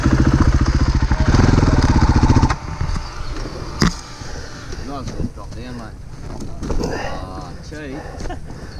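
A motorcycle engine revving steadily in first gear, loud and buzzing at first, then dropping to a lower rumble under strong wind noise while a rider talks.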